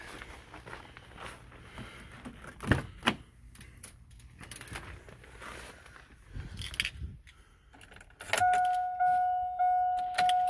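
Keys jangle and click in a close, small space inside a diesel truck cab with a few sharp knocks, then a chime starts beeping in a steady repeating pattern as the glow plugs warm up at 3 °F.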